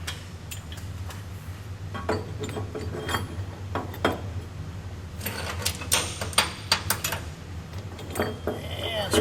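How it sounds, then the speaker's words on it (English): A ratchet drives an Allen bolt with a lock ring into the end of a motor shaft through an impeller on a retro kit: close, clicking bursts of ratcheting that come faster toward the end, over a steady motor hum. "And screw it right into the end of the motor shaft."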